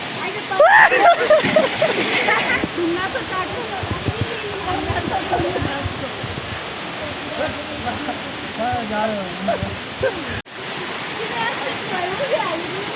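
Cold, clear water flows steadily through the Shivapuri jungle in Nepal with a continuous rushing wash that stays at an even level from start to end, while voices talk over it.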